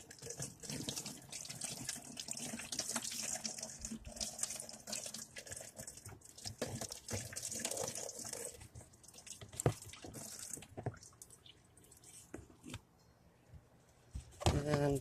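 Water pours and splashes into a container in a continuous stream inside a van, tapering off near the end, with occasional clunks and a voice talking faintly.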